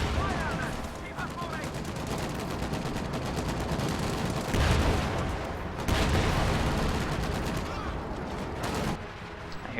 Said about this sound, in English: Hear the priest firing again on the battle group headquarters again.